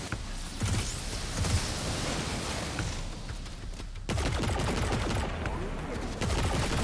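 Gunfire in Destiny 2: Lightfall, sustained loud rapid shots pounding without pause, growing denser and harsher in the second half.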